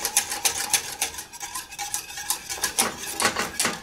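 Vanilla flavoured ermine buttercream base whisked in a pot, rapid rhythmic metallic swishes and clinks of a whisk against the pot, close and fairly quiet, without talk.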